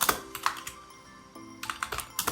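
Close, clicky keystrokes on a computer keyboard while HTML heading tags are entered, a short burst of typing, a brief pause, then more quick taps, with no voices.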